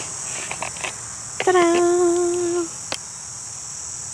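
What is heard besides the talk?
crickets chirping in Kings Park, Perth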